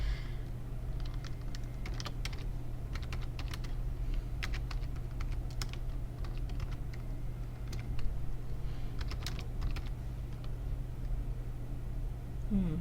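Computer keyboard typing in a Microsoft Word text box: an irregular stream of light, close key clicks in quick bursts with short pauses, over a steady low electrical hum, no talking.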